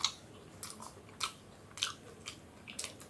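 Close, quiet chewing of a mouthful of rice with loti, a series of soft moist crunching bites repeating roughly every half second, with no talking over it.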